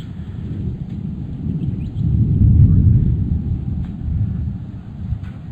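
Low, rolling thunder rumbles in the distance outdoors near a dam in gold-prospecting country, swelling and fading as a muffled boom under light wind noise, with no voices.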